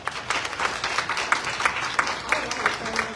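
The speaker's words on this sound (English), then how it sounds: "Everyone, let's give them a round of applause." Audience applause at a family empowerment conference panel, a steady wash of many hands clapping at moderate loudness for about three seconds, with some murmuring voices mixed in.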